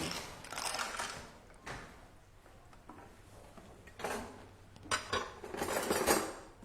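Clams clatter into a metal Thermomix bowl in several hard, clinking bursts separated by quieter pauses, sharp and close by, with no talking.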